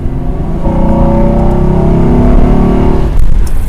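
Hatchback car engine, freshly repaired after a bearing fix, revs up and accelerates with a steady strong rising drone that holds for several seconds before easing off near the end.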